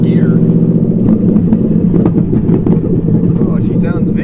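Inside a raked pickup truck with a Gen 5 engine swap and manifolds, a loud, deep rumbling engine drone fills the cab steadily while people talk over it.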